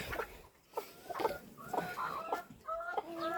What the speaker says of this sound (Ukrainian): І отут долуплюють курки курчаток